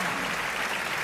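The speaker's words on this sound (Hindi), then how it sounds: "एक बार दोनों हाथ उठा के तालियां बजाएं।" Audience at a Hindi poetry gathering claps together, a brief, even burst of many hands heard at a moderate distance, uniform and unbroken for about a second.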